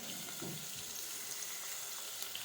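Cauliflower fries in a pan with a soft, continuous hiss and sizzle, quiet and close, with no voices over it.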